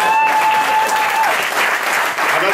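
Loud, dense applause fills a press conference room for the Starbulls Rosenheim and Kaufbeuren cup draw, an unbroken wash of many hands clapping close by.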